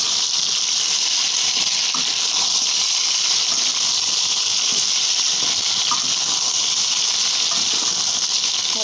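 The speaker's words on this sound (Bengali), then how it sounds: "পটলগুলোকে একটু ভালো করে ভেজে নিতে হবে" Sliced pointed gourd (potol) frying in hot oil gives a steady, loud, continuous sizzle and hiss, with occasional faint pops and no voices.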